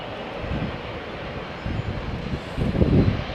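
A Boeing 777 taking off from Heathrow's runway 27 right: a steady low roar of jet engines that swells louder near the end, muffled by wind buffeting the microphone.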